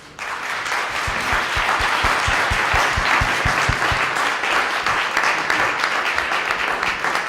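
A seminar audience at the Tales of the Cocktail 2015 event breaks into dense, sustained applause that stays steady and full for several seconds, filling the room with no talk over it.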